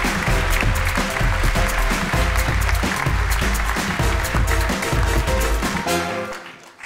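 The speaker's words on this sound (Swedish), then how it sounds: "Ge Amanda en stor applåd" Big, loud audience applause in a packed theatre at a live mentalism stage show, sustained and dense with a few whoops, tailing off at the very end.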